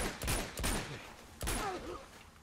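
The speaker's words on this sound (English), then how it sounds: "Oh, good shot, Chloe." Gunshots in the video game Uncharted 2: three loud, sharp shots in quick succession, each with a short echoing tail, fairly close.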